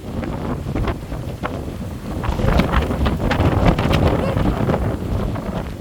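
Strong wind gusts while someone walks outdoors among townhouses, a loud rumbling buffet on the microphone that builds and stays heavy through the second half.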